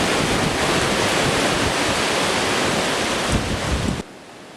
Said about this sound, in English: Listen to that wind.